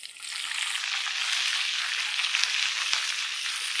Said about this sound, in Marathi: आपण आता तुपामध्ये अजवान घालून घेऊ